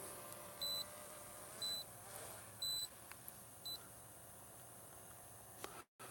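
An Autel EVO drone sounds its first low battery warning at 15%: four short, bright electronic beeps spaced about a second apart over steady wind and rotor hiss, with no talking.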